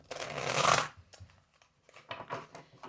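Tarot cards are shuffled by hand in one crisp riffling burst, followed by a few lighter taps and card slides, close and fairly quiet.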